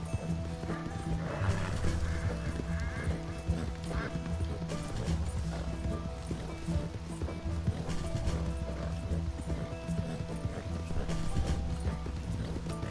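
Horse galloping in Red Dead Redemption 2, with steady clip-clop of hooves, a whinny or two, and continuous mid-loud game ambience running throughout, no speech over it.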